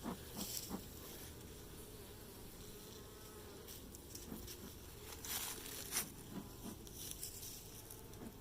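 Honeybees buzz steadily around an outdoor hive early in the season, a continuous close insect drone with occasional louder passes and soft rustling throughout.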